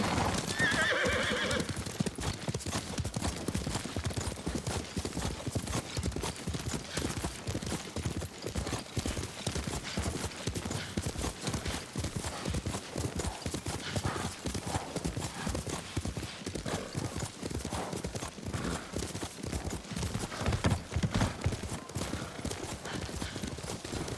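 Clip-clop of a horse's hooves at a steady trotting rhythm while riding in Ghost of Tsushima, with a whinny near the start, carrying on continuously under game ambience and music.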